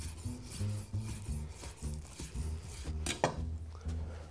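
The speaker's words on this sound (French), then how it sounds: "Là nous allons passer à la découpe des cubes." Raw beef for tartare cut into small cubes with a knife, with a rhythmic series of soft blade taps on a board, moderately close and quiet, and faint kitchen background noise.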